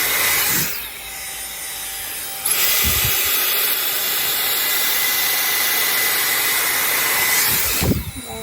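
A Dyson AirStrait hair styler runs with its fan on high, giving a loud, steady rushing whoosh that grows stronger a few seconds in and then cuts off near the end.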